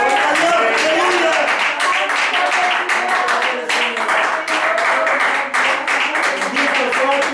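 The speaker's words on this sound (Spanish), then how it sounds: "¿Cuánto le dan palmas al Señor, hermano?" A church congregation claps along steadily at a Spanish-language Sunday service, many hands striking in a dense, loud, continuous patter that fills the room, with a voice speaking over it.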